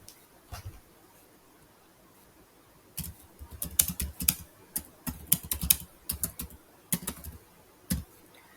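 A computer keyboard taps out a title in uneven bursts of clicky keystrokes after a quiet start, close and fairly crisp, with no speech.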